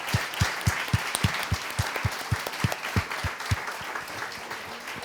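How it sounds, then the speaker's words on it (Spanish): Applause at a STEM masterclass for girls, a fairly quiet crowd clapping, with a regular low thumping beat running beneath the clapping through most of the clip. "Así que un fuerte aplauso."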